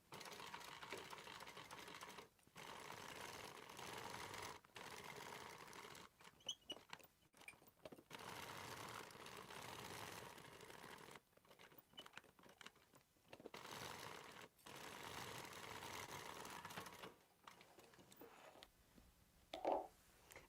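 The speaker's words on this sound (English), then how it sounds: "So when I top stitch, I'm just going to do 1/8 of an inch seam allowance." A sewing machine top stitching a messenger bag at an eighth-inch seam allowance, running in several separate bursts of steady mechanical stitching with short pauses between them, fairly quiet and close.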